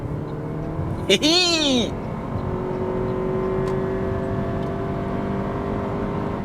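A 2026 Toyota Prius hybrid accelerating hard, its engine giving a steady groaning drone heard from inside the cabin under road noise, while a voice briefly whoops early on.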